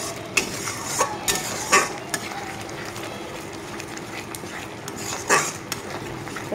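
Spiced paste for a Bengali doi chingri (prawn curry) sizzles in a pan while a spoon or spatula scrapes and stirs it, giving a steady frying hiss broken by a few louder clinks and scrapes, with no talking.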